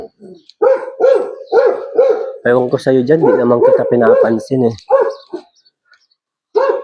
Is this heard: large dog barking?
yes